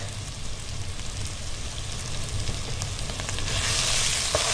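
Chicken frying with spices in a pan, a continuous close sizzle that grows brighter and louder toward the end, with a low hum underneath.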